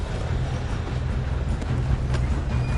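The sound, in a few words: train running on rails, from video game Red Dead Redemption 2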